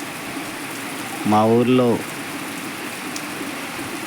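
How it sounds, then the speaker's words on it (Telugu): Heavy rain falls at night over a village, a steady continuous hiss that fills the background while a voice speaks briefly over it. "మరి మా ఊర్లో అయితే వర్షం పడుతుంది"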